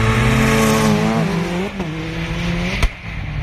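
Several drift car engines rev loudly and continuously in frosty winter weather at a drift event, pitch rising and falling, with a sharp bang near the end.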